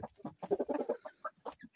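Domestic hens, about two years old, cluck close by in a small home yard, a series of short uneven clucks and chatter in quick bursts.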